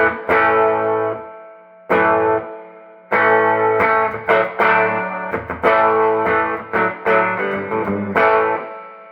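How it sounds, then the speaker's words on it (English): Electric guitar chords ring through a Peavey Classic 30 1x12 EL84 tube amp with a splashy, wet spring reverb, played in short strummed bursts with gaps between phrases. "It's kind of a classic spring reverb to me"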